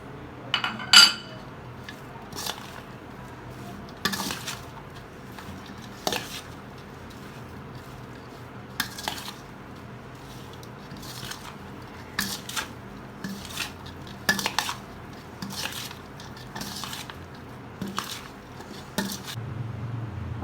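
A spoon mixes dahi vada chaat in a bowl, sprinkled with salt and chaat masala, producing soft scraping and occasional light clinks against the dish in irregular bursts at close range.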